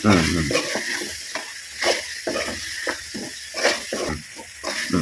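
Chicken meat with liver sautéing in a pan, a close sizzle punctuated by repeated scraping and stirring strokes at an uneven rhythm, with a brief voice at the start.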